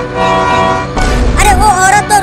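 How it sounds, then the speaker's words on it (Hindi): A loud, sustained tempo (auto-rickshaw) horn blares, then continues with wavering honks over rumbling engine noise, close by. "जल्दी टेम्पो का हॉर्न बजाओ।"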